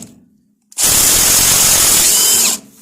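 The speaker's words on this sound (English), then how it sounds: "So we'll get the impact on it" Impact wrench loosening a nut on the front suspension of a Jeep TJ: one loud continuous burst of hammering rattle lasting almost two seconds, close up, with no talk over it.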